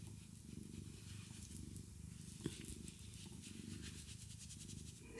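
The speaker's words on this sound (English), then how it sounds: "purring so loudly" A wounded feral cat purrs loudly and steadily in a continuous rumbling rhythm, close up, with no talking.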